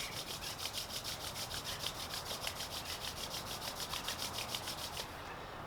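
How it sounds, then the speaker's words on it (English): Palms rubbed together vigorously during a yoga session, a steady fast back-and-forth hiss close by for about five seconds before stopping, with no talking. "rub the palms together vigorously."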